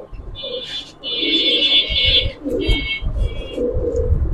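A Giribaz pigeon coos in low, rolling bursts close by, with high chirps from other birds over it.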